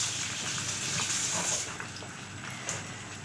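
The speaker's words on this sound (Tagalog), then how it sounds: "Ayan, nagprito na tayo ng itlog." Eggs fry in a hot frying pan with a steady, bright sizzle and crackle. It is close and continuous, and nobody talks.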